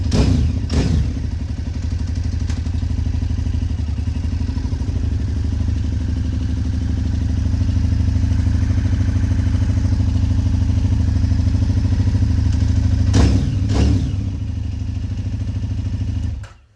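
A KTM 990 Adventure motorcycle engine with Akrapovic exhaust idles with a deep, steady rumble and a few revs early on and near the end.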